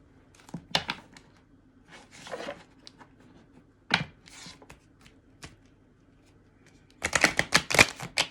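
Tarot cards are shuffled by hand with very long nails: scattered riffles and taps, then a dense burst of crisp card flutter near the end, close and quiet in a still room.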